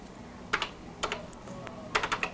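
Typing on a Color Computer keyboard: a few clustered bursts of crisp key clicks, close and fairly quiet, separated by short pauses.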